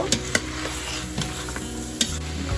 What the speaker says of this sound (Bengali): এবার ছোলে অ্যাড করে দিচ্ছি কিছুক্ষণ কষিয়ে নেব